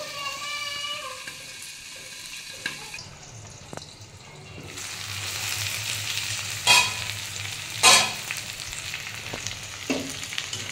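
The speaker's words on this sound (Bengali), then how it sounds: "আমি চাপা দিয়ে ভেজে নেব।" Potatoes, onion and tomato frying under a lid in a pan give a steady, soft sizzle, with clinks of stirring and a few sharper spatters and clatters near the end.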